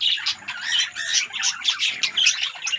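Several birds in an aviary squawk and chirp in rapid, overlapping shrill bursts, close and fairly loud with no pauses.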